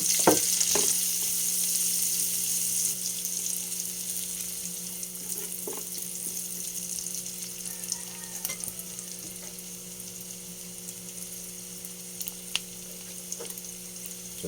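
Garlic and onion sizzle in hot oil in a pan, a steady close frying crackle with occasional stirring clinks, loudest at the start and settling slightly as it continues.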